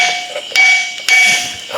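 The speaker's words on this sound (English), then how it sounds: "We got the hammer turned on." A power hammer working a Dana 30 axle bracket for a budget build gives two sharp, loud strikes with ringing metallic tones that slowly decay, heard alone in a shop.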